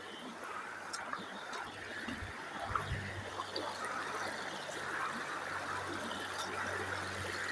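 River water flowing steadily, a continuous low rushing wash with faint trickles, close by and unbroken throughout.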